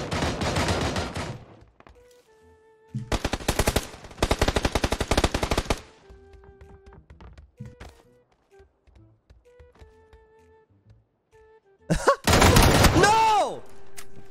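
Pistol and shotgun fire in a shooter video game, including a Desert Eagle, rings out in loud, rapid bursts of closely spaced shots. Quiet gaps with faint tones separate the bursts, and a final heavy volley ends with a ringing tail.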